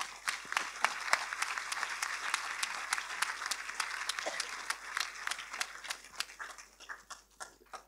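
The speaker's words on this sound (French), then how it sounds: "merci de l'applaudir." Audience applause at the CST awards ceremony of the 2024 Cannes Film Festival for winner Dolores Mara, a dense run of sharp claps from a crowd that holds steady and then thins out toward the end.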